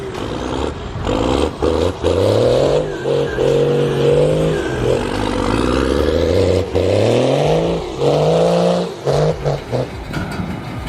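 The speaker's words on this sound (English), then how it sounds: "That first-gen Cummins, all power and noise, trapped in a snowy mess." A first-gen Cummins truck engine, stuck in snow, revs hard in repeated loud surges that rise and fall over about eleven seconds, close by and with no voices.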